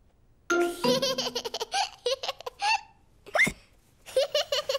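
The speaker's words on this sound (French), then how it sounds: "George a bu son jus de fruits trop vite et maintenant il a le hoquet" A cartoon pig hiccups after gulping fruit juice too fast, a handful of sharp voiced hiccups spaced through a few seconds, with giggly children's voices and brief talk mixed in.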